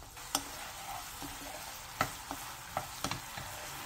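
Seasoned Korean fish cakes stir-fry in soy sauce, oyster sauce and garlic over medium-low heat, giving a soft, quiet sizzle broken by several sharp spatula taps and scrapes against the pan.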